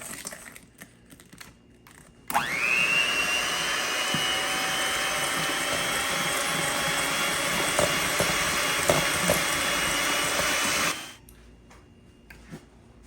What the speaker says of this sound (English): I'm gonna continue mixing this until its consistency becomes creamy